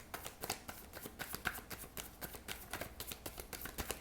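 Tarot cards being shuffled close up, a steady run of quick papery riffles and flicks with soft taps, continuous for several seconds with no talking.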